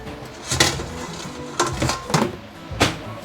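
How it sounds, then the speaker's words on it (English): Several light clanks of a metal lid being set onto a pot of boiling fish stew, scattered irregularly and fairly close, with no talking. "I'm going to close it with the lid."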